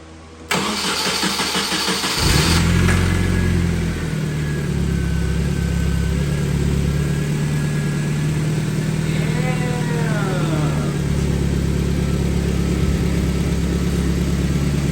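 A Nissan KA24 engine cranks briefly, catches and starts on its first start after restoration, then idles steadily with a low, even rumble and a small exhaust leak; a faint chirp-like sound rises midway.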